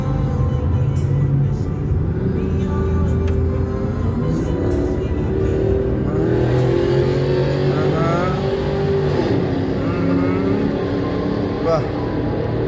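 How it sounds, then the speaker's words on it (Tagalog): A car drives through the longest tunnel in Riyadh, its engine and road roar sustained and loud throughout, with people talking inside the cabin over the steady rumble. "Ito na ang pinakamahabang tunnel sa Riyadh."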